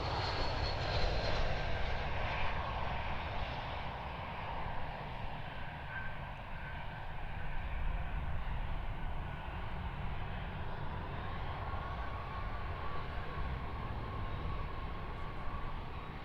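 A Qantas airliner, flight QF1829, at Perth Airport produces a distant, steady engine roar that holds at a constant level for the whole stretch, with no talking.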